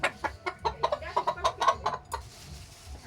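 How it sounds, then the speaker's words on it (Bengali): A chicken clucks in a rapid series of short, close calls, a quick irregular burst of about a dozen notes, then quieter rustling. "এই যে মুরগি"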